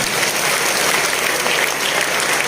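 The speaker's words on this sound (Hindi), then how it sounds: "ताली जोरदार बजा लीजिए" Loud, steady applause from a seated audience at an RCM business leadership talk, dense clapping filling the whole stretch with no voices over it.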